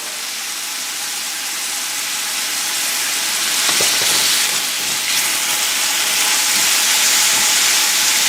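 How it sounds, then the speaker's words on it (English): Chopped onions sweat in a hot pan with salt, giving a steady, close hiss and sizzle that grows slightly louder partway through, with no talking. "I'm just going to sweat them down until they become translucent."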